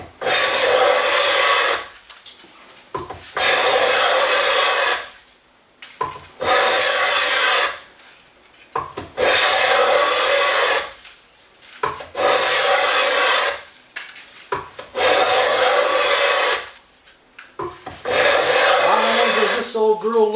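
A Winchester No. 3041 transitional smooth plane takes long shavings off wood, giving several loud, rhythmic rasping passes of about two seconds each, separated by short pauses.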